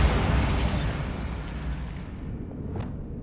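The Bombarda spell exploding in the Hogwarts Legacy video game: a loud, close, rumbling blast with a noisy burst that slowly fades over a few seconds.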